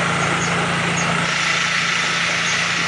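A vehicle engine left running at idle on a lanzones farm, a constant low drone with a faint hum, steady and unbroken throughout.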